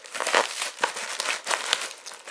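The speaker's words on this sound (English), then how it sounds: "I'm going to just tape it just to reinforce the corner here" Packing tape crinkling and stretching over the open corner of a shipping box holding framed artwork, close crackly bursts with a few sharper snaps along the way.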